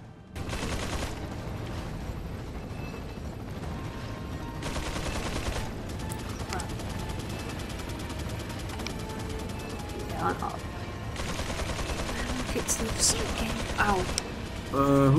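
Gunfire in the video game Resident Evil 4 crackles in sharp bursts over a busy game soundscape of mechanical clatter and ambient noise, with several loud shots near the start and end.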